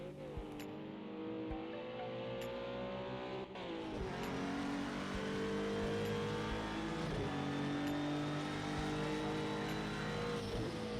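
Engine of a GT3 race car in Project Cars 2 at Bathurst revving hard toward the limiter, a loud, continuous rising and falling drone with brief dips at gear changes and no talk over it.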